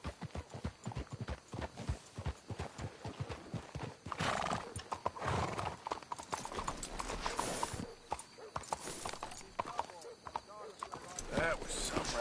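Horses in the western video game Red Dead Redemption 2 clip-clop steadily at a trot, with a loud neigh partway through, under game dialogue and ambient outdoor sound.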